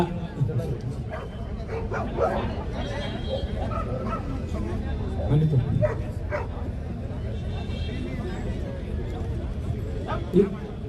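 A police dog barks and yips at a dog show in Belagavi during a drug-sniffing demonstration. Several short barks and whimpers stand out over a nearby speaking voice and crowd chatter.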